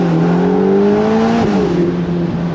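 Ferrari Portofino M convertible with its 620-horsepower engine accelerating, a loud, smooth rising engine note heard from inside the car, briefly dipping at a gear change before climbing steadily again, with no talking.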